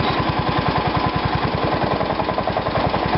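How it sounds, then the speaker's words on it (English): A hydraulic mower deck raising motor on a 140 H3 garden tractor whirs steadily up close, with a fast, even pulsing drone and no talking. "This is the mower deck raising motor."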